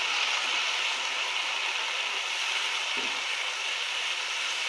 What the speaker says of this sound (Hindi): दो मिनट इसी तरीके से मैं इसको फ्राई करूँगी पहले